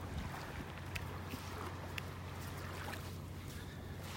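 A sand-pumping barge working offshore from a beach in North Naples, Florida, gives a steady low drone that runs the whole time under wind and surf noise, with no voices.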